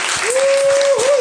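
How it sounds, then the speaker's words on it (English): Applause from a cybersecurity talk audience, a dense, steady wash of clapping for the whole moment with a sustained tone running through it. "Give them a round of applause."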